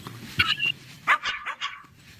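Several pet dogs bark in short sharp bursts close by, a high yip followed by a quick cluster of barks, with steady background noise and no talking.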